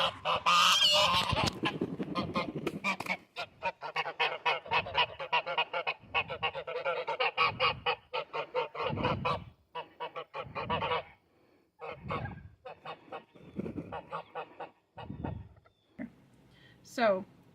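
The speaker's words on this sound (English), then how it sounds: "I will put a clip of my real geese in here." Geese honk repeatedly at close range in a rapid, raucous series, with a breathy hiss at the start and scattered calls trailing off at the end.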